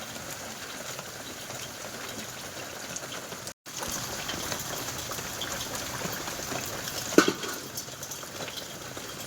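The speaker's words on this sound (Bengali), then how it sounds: "সেই রাত থেকে বৃষ্টি বৃষ্টি আর বন্ধ হচ্ছে না" Rain falls steadily in a waterlogged rural spot during a long downpour, a dense, even hiss that runs nearly throughout, with a momentary gap and a single faint knock late on.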